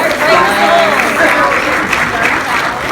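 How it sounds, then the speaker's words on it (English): Applause from a convention panel audience at PAX East, a broad dense wash of clapping that holds steady and fairly loud throughout, with voices mixed in. "Round of applause, please, for them to get up with the confidence."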